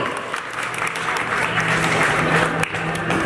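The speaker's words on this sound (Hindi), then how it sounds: "तालियां तो मार दो यार" Steady applause from a crowd fills a railway retirement function, dense clapping sustained throughout with a brief sharp burst near the end.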